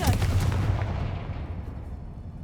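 A Confringo fire-blast spell goes off in the Hogwarts Legacy video game, a single loud booming blast with a rumbling tail that fades over about two seconds.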